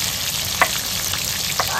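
Bhetki fish sizzles steadily in hot oil in a pan, with a couple of soft clinks from a utensil or spatula and no talking.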